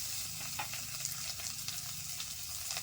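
Ground ginger, garlic and green chilli paste with cumin and red chilli powders frying for a gozar fish curry, sizzling steadily and close with scraping stir sounds, no talk.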